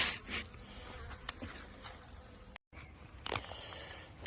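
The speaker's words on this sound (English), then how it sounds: "Nice bees." Honey bees buzzing around autumn beehives outdoors, a faint steady drone with occasional louder passes close by, no voices.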